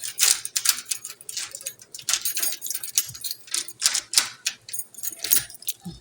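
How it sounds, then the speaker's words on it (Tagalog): A set of keys being picked up and handled indoors in a condo, rapid bright metallic jangling and clinking in bursts throughout, fairly close and with no talk over it. "Kunin muna natin yung susi."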